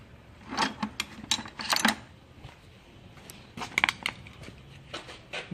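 A Phillips screwdriver twists plastic grille retaining clips on a 2001 Chevrolet Tahoe, giving close, irregular clicks, ticks and short scraping rattles in small bursts with quiet gaps between them.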